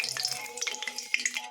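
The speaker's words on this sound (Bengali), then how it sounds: "এদিকে আমি তেল গরম বসিয়ে দিয়েছি আর এর মধ্যে দিব 1 চামচ ঘি" A spoonful of ghee goes into hot oil in a pan while cooking Bengali malpua, giving a close, steady crackling sizzle with scattered sharp pops and spits throughout.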